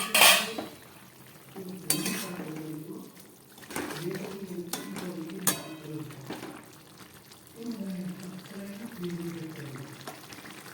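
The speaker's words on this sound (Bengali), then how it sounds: "6-7 মিনিট পরে ফেরত এসে ঢাকা খুলছি।" Metal pots and utensils clink and clatter in a home kitchen as a lid comes off a simmering curry of lentil-dumpling boras, a few sharp knocks and scrapes spaced through the clip while someone talks over them.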